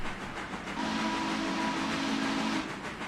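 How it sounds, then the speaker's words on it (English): Deep train whistle in the Railroader railroad simulation game: a low, steady steam whistle blast with layered tones lasting nearly two seconds, loud over continuous hiss and rumble, with no voices. "What about that deep whistle?"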